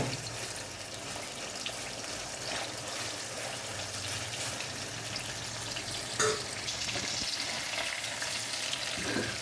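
Chicken pieces frying in a pan for butter chicken, a steady, fairly faint hiss and crackle of hot oil that carries on without a break.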